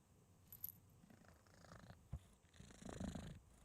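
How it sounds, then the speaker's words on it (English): A cat purrs faintly and close, a soft low rhythmic rumble with a few small handling noises and shifts in between. "I don't know if y'all can hear him purring."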